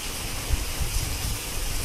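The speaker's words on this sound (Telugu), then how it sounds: "ఫుల్ వర్షం వస్తుంది రా, ఒక దెబ్బకు నీళ్ళు వచ్చేసినాయి" Heavy rain falling, a dense steady hiss of downpour with a few low thuds, continuous and close.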